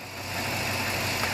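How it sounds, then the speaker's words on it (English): A car engine, repaired after being hydrolocked, idles with a low, even hum that stays quiet and steady throughout, with no talking. "The engine is pretty quiet. You can hear it hum."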